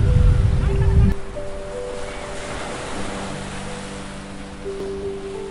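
Surf washes in at Dublagadi sea beach with wind buffeting the microphone, loud rumbling at first and then a steadier roar, while people talk nearby.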